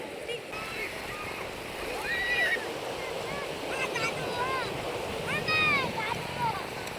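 Sea surf washes in at Bakkhali beach, a steady broadband rush of water and wind, with several raised voices calling out over it throughout.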